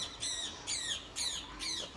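A pet bird squawks in four loud, harsh bursts at a steady rhythm, close by, with no talking.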